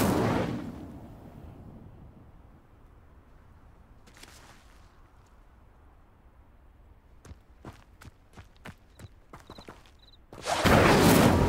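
Incendio fire spells are cast to light sinking pyres in the video game Hogwarts Legacy, heard as a loud broadband whoosh at the start and again at the end, with a burst near four seconds and short sharp clicks in between.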